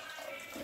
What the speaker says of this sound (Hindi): इसमें मैंने रख दिया था गर्म पानी, अब इसको डाल देते हैं